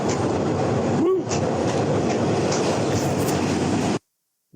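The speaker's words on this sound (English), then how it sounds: "We're riding the subway." A New York subway train rides along with a steady loud rumble and rattle from inside the car, a brief cheer near the start, then the sound cuts off abruptly.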